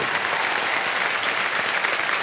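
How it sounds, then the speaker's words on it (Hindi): Steady, dense applause from the studio audience of the TV quiz show Kaun Banega Crorepati, a loud, even wash of clapping with no voices over it. "एक बार तालियां बज जाएं"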